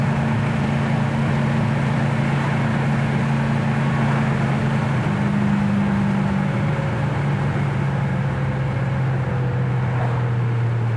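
A 1970 Dodge Coronet Super Bee tribute cruising down the road, its V8 engine a steady, loud low drone with road rumble and a slowly shifting pitch, and no voices.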